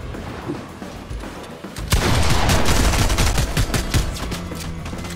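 Automatic turret gunfire in Fortnite, loud and sustained as a dense stream of rapid shots that starts abruptly and keeps going to the end.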